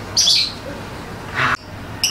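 A trained songbird gives short high chirps, a bright burst at the start, another mid-clip and a brief one at the end, heard fairly close over a low background hum.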